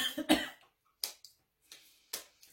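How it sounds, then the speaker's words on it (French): A woman coughs repeatedly, a cluster of harsh close coughs at first, then several single coughs spaced out with short silent gaps between them. "je suis désolée, je tousse encore."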